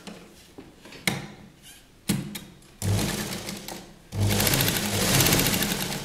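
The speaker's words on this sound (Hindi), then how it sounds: "अब हम इस कपड़े को कैनवास के ऊपर ऐसे फोल्ड कर सिलाई लगा लेंगे" A sewing machine stitches fabric onto canvas for a kurti neckline, starting in short bursts and then running a steady, close whirring stitch through the last couple of seconds.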